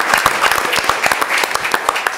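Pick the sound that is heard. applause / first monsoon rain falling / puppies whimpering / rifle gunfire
applause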